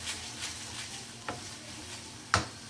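Carom seeds sautéing in a pan for a bhindi and onion fry make a soft, steady sizzle, broken by a few light stirring scrapes and one sharper clack of a spoon against the pan.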